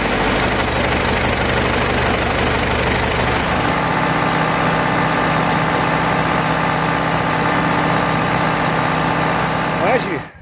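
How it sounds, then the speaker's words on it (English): A tractor engine rumbles steadily and loudly at close range as it drives through a field, a continuous droning run that cuts off abruptly at the end. "riding on the tractor coming down through the field"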